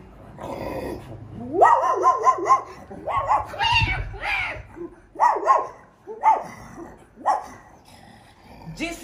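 A blind Pakistani man vocally imitates a dog barking and yelping, a string of short, close, loud barks breaking in amid imitated fighting cats; the calls come in quick bursts with brief pauses.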